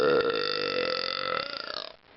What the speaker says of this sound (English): I can still burp.